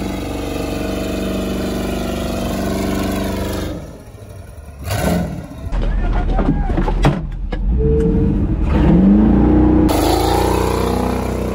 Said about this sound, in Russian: Затроил мотор, затроил.